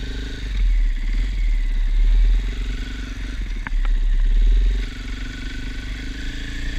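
A 2024 Husqvarna FE501s dual-sport motorcycle rides along a street with a steady, close engine drone and wind rush, easing off partway through as the throttle drops and picking back up briefly.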